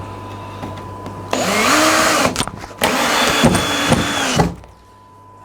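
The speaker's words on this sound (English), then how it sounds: "But ain't half boring screwing in loads of screws." A power drill runs in two long bursts, driving screws into plywood lining an aquarium build, a steady loud motor whine with brief stops between, and no one speaking.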